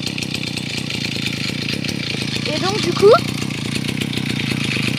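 A brushcutter engine idles steadily throughout, a continuous low mechanical drone with a brief sharper rise near the end, while a person talks over it during roadside verge clearing.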